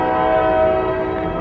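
Subway train arriving at a station, a loud steady rumble with a sustained horn-like tonal hum filling the short moment, close and continuous, no speech.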